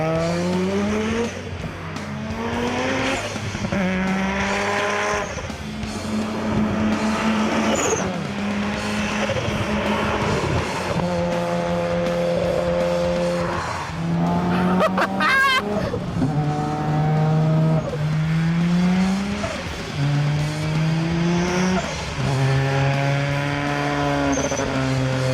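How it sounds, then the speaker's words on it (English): A rotary-engined car revs hard under full acceleration, its loud, buzzy engine note climbing repeatedly through the gears with brief drops at each shift, close and continuous with no talking. "Rotaries are known to rev. Yeah, listen to this."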